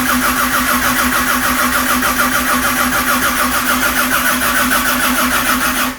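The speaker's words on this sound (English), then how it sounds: "we're going to do just a turnover on it" Classic car engine turning over on the starter with the ignition coil disconnected, a steady loud whirring crank with rhythmic pulsing that never catches, cutting off abruptly at the end.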